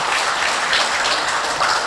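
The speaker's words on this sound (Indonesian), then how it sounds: "Tepuk tangan untuk PPBRI cabang Surabaya" Applause from an audience at a large BRI retirees' reunion for the PPBRI Surabaya branch, a dense, steady wash of clapping that fills the room without a break.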